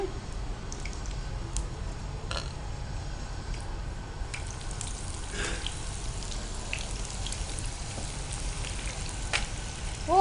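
Brinjal slices for crispy chips frying in hot oil give off a steady, close sizzling hiss throughout, with a few faint pops and no talk.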